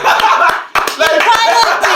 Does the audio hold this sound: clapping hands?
yes